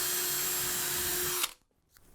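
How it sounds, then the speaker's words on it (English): A power drill with a small bit bores through drywall into a wooden stud while a TV wall mount is being set up, a steady whirring run that stops abruptly, leaving near silence with a faint rustle. "I always like to check by drilling with a small drill bit to see if it's actually on a stud"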